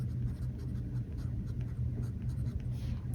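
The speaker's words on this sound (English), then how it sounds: "And the pen that I'm writing with, I'm just gonna write the" Scratchy strokes of a Platinum fountain pen with a 14K gold nib moving across paper, close and continuous, with a faint low hum underneath.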